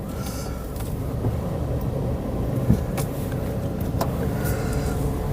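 A Suzuki Alto's engine runs steadily throughout, a continuous low rumble heard from inside or close by, with faint higher clicks and rattles.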